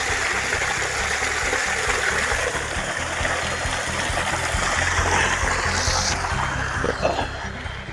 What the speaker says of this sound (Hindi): इस ट्यूबवेल का पानी बिल्कुल झरने के माफिक है।